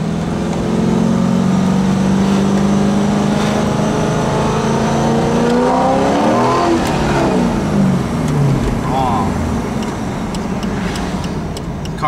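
A Corvette accelerates hard, its engine rising steadily in pitch through the gear with a loud, close roar inside the car, then a shift and renewed climb.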